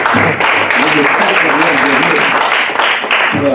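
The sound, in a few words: applause at a municipal council meeting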